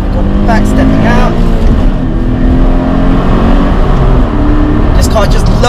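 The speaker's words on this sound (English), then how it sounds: "This car just loves to rev all day long." Toyota GT86 sports car engine revving hard on a road drive, a loud continuous engine note with rising and falling pitch, heard from inside the cabin.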